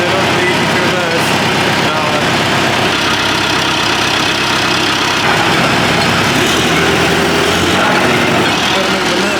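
A European tractor's diesel engine runs loudly and steadily close by as the machine reverses on a farm, a constant low rumbling drone with no pauses.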